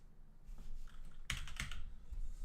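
A computer keyboard is typed on in a few quick keystrokes, quiet clicks standing out from a low steady hum with no talk.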